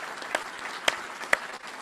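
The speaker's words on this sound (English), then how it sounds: "So big round of applause for all of them" Scattered applause from an audience at a military change of command ceremony, a light wash of clapping with a few sharp, close individual claps standing out.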